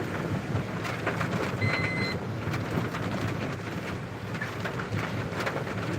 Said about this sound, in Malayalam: ഇവിടെ ഭയങ്കര ഭയങ്കര മഴയാണ്